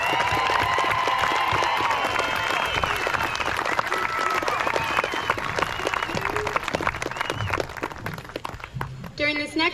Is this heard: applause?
yes